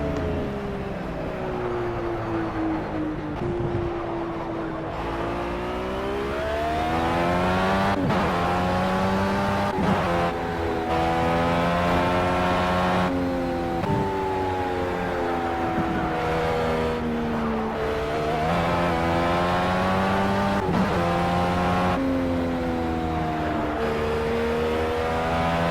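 A Dallara DW12 IndyCar racer in the Project Cars video game sings its engine note up and down through gear changes, steady and loud, lap after lap with no talk.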